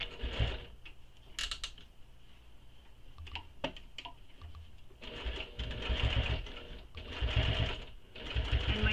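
Home sewing machine stitching the seam of a crossbody bag, with bursts of rapid mechanical whirring and clatter that start, pause and restart, plus a few sharp clicks between runs.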